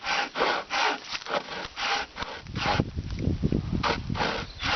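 A Russian-made hand saw cutting wood outdoors, repeated rasping back-and-forth strokes, close and loud, with the rhythm growing rougher as the blade binds in the cut.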